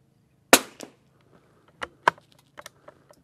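Two rifle shots from a Savage rifle, a sharp loud crack followed by a short echo, then a second crack about one and a half seconds later, with faint clicks and handling noise in between.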